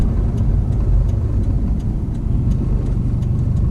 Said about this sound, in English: the WRX is a very loud car